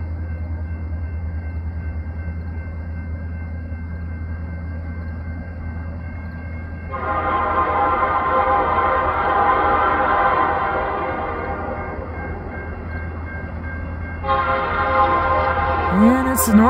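A northbound CN freight train led by an EMD locomotive, number 5454, rolls past at Ladysmith: a steady low rumble and wheel noise swells as the cars pass, with fainter stretches between, heard from trackside.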